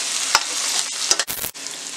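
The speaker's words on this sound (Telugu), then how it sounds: "మూత పెట్టి మధ్య మధ్యలో కలుపుకుంటూ సిమ్లో పెట్టి ఉడికించుకోవాలి" Ridge gourd sizzles steadily in a pan with cumin-coriander powder, a constant frying hiss broken by a few sharp spatula scrapes and brief pauses as it is stirred.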